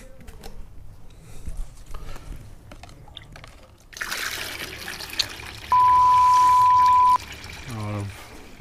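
Water poured from a container while lining a Yamaha XS1100 fuel tank, a trickling, splashing pour that grows louder partway through, with a steady tone and brief low thumps near the end; no speech.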